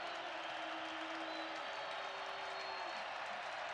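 A stadium crowd at an NDSU versus South Dakota college football game claps and roars, a far, broad, continuous wash of noise that stays steady beneath a faint whistle-like tone.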